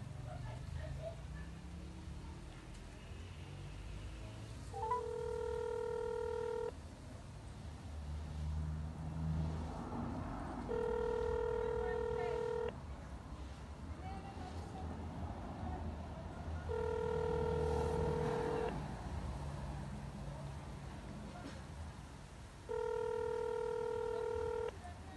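Touch-tone dialing beeps sound in four evenly spaced bursts, each lasting a couple of seconds, while a phone call is placed, over a low background hum and some faint voice.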